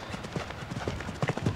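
Horse hooves pound turf in a quick, uneven galloping rhythm during a show jumping grand prix, moderately close, with faint background noise.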